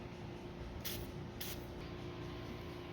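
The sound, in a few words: spraying lubricant on Ford Explorer rear wiper arm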